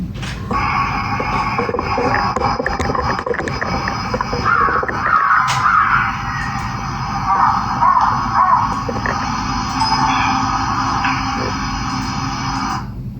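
Recorded caws from north central Texas, a crow calling first and then a vocalization said to imitate a crow, repeat loudly in harsh bursts over a constant background hum.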